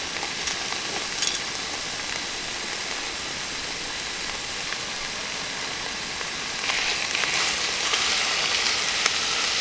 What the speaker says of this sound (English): I'm going to get that in there and start that browning and add the seasonings to it